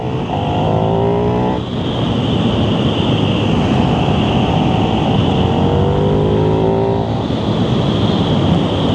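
KTM Super Duke 1390 R Evo motorcycle in a sportier riding mode, its engine droning loud and steady with rising and falling revs through gear changes, close up over wind rush.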